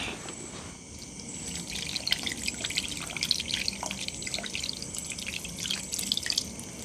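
Water pours and drips into a pot of village-style chicken curry with roasted ground coconut masala, a light splashing trickle with scattered drips, moderately close and steady, with no talk.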